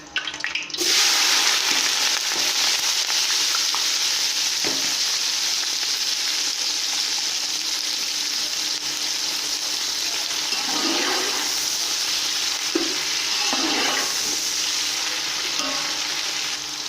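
Onions fry in hot ghee in a pan for a vegetable pulao, giving a loud, steady sizzle and crackle that runs unbroken throughout, with faint clinks of stirring now and then.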